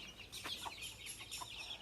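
Chickens cluck in short, close bursts while being fed, several overlapping calls repeating steadily over a faint background.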